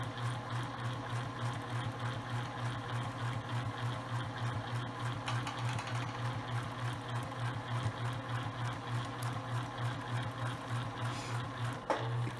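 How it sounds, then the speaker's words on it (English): A sewing machine stitches a homemade breathable fabric face mask, running as a steady, continuous mechanical whir with a rhythmic needle pulse throughout, close and alone with no talking. "And continue to sew straight down."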